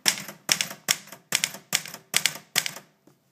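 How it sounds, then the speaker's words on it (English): Manual typewriter struck with a bottom-typing technique: seven sharp, evenly spaced keystroke clacks about half a second apart, loud and close, each ringing briefly before the next. "And I'm bottom typing this right now."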